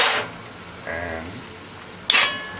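Brown stewed liver is stirred in a pot on the stove: a short scrape of a spoon against the pot, a soft bubbling sizzle, then a sharp metallic clink, all close up with no talking.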